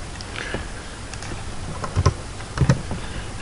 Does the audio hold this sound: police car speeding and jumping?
no